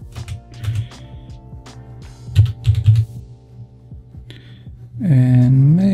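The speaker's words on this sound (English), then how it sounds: "So I'm gonna type Siege." Clicks of a computer keyboard being typed on, scattered short bursts of keystrokes at close range over a steady background hum, with a brief louder tonal swell near the end.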